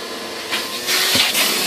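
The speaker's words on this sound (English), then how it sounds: "I'm going to get the vacuum, clean that thing out" A vacuum cleaner runs with a steady, loud whooshing roar, its pitch surging a couple of times as the nozzle moves.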